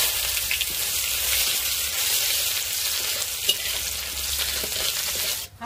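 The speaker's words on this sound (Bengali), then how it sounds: "হালকা করে একটু ভেজে নেব" Onions frying lightly in oil with dried red chili, bay leaf and five-spice for a jackfruit-seed dal, a loud continuous sizzle close by that cuts off abruptly at the end.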